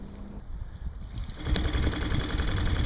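A small 2.5-horsepower Yamaha outboard motor on a canoe drones steadily close by, its hum growing louder partway through, with water noise beneath.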